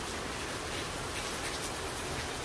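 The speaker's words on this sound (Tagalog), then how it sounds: "Ay, ang lakas ng ulan." Heavy rain pouring down outside a porch in a rural province near La Trinidad, a dense, even, unbroken hiss that sounds fairly soft and steady with no individual drops standing out.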